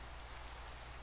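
Rain in the Minecraft video game, a steady dense hiss of falling rain, continuous and even over a brief moment, with no voices.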